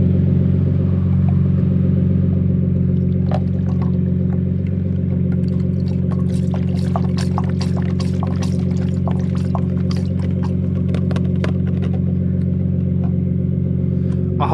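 Car engine idling, a continuous loud steady low hum with even harmonic drone lasting throughout, with scattered small clicks and ticks over it and no speech.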